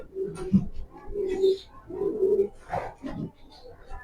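Several soft, throaty coos of young racing pigeons repeat in short phrases, close by, with faint rustling and a few higher chirps between them.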